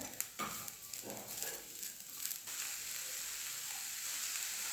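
Sugar cooks with rice in a pan for sweet coconut rice, opening with a few soft clatters and stirring knocks before settling into a faint, steady sizzle.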